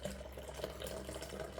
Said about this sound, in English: I'm going to rinse out my cup.